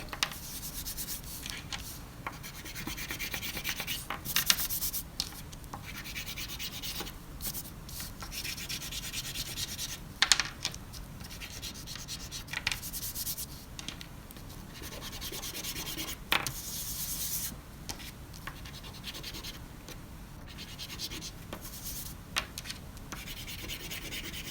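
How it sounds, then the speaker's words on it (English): Chalk rubbed onto paper to build an even coat of colour, heard as continuous close scratchy scrubbing strokes with brief louder swipes, steady and moderately quiet throughout. "I really want to make sure all of my paper is covered with this chalk, a nice even coating"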